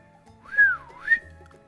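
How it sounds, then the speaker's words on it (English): A single person whistles a short two-note phrase, rising, dipping, then rising again, heard close and clear above faint background sounds, with no talking. "Maybe I shouldn't be whistling."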